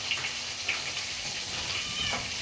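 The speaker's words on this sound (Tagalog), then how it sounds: "Oh, ang mga pusa!" Cats meowing faintly at a distance, a few short cries over a steady background of running water or kitchen noise.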